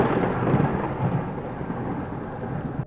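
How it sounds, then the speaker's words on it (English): Steady heavy rain pours in dense sheets alongside low, rolling thunder, a continuous loud storm wash with no voices. "The rain fell in steady sheets as Liam parked his car"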